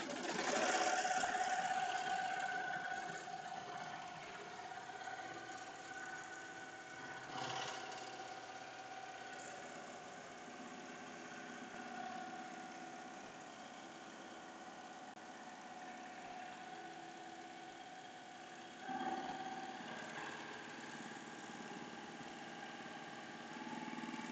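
A Melco Summit embroidery machine stitches an in-the-hoop jar opener at high speed, giving a steady, fast mechanical hum and whir that runs continuously, with a few brief louder bumps and no talking.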